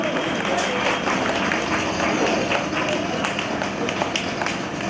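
An audience applauds at a Sarad Samman 2018 award ceremony, with dense, continuous clapping that holds steady throughout.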